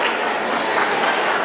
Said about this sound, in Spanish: vamos a darles un fuerte y caluroso aplauso